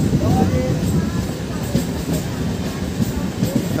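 Ranaghat-Gede local train pulling into Bhaina halt, a steady loud rumble of wheels and carriages with faint clatter and a brief squeal, heard from on board.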